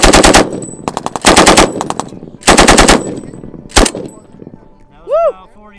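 A machine gun fires loud, close bursts of rapid rounds during army training on a range, with several long strings and a short final burst. Trailing whines and faint voices follow afterward.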